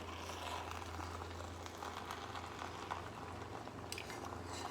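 Shrimp and rice frying in a pan, a crust forming on the bottom, with a steady sizzle throughout and soft scraping and stirring as the mixture is gently turned over.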